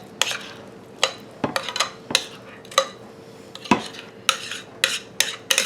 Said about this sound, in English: I'm taking our zucchini bread and I'm putting it in here.